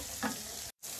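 Butter with garlic and pork sizzling in a skillet, a close, continuous frying hiss with a brief louder stir, broken by a sudden cut near the end.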